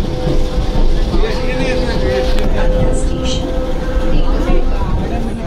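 A suburban train ride heading toward Airoli, with a loud continuous rumble and rattle of the rail car throughout and faint voices mixed into the din.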